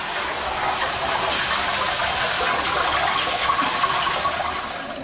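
Water gushes steadily from an activated deluge valve in a double-interlock preaction sprinkler system, a loud continuous broadband rush that holds level throughout with no talk over it.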